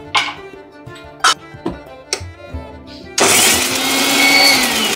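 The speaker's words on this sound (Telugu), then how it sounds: "ఒక స్పూన్ జీలకర్ర వేసి ఇవి మిక్సీ వేసుకుంటాను" A kitchen mixer grinder grinding onions, dried red chillies, garlic and cumin for karam dosa; a few knocks and handling noises come first, then the motor starts and runs loud and steady.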